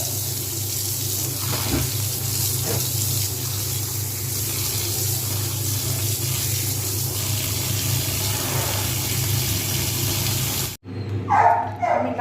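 Spinach leaves rinsed under a running kitchen tap, a steady rushing stream of water splashing into a sink that runs loud and continuous before cutting off abruptly near the end, followed by brief clattering.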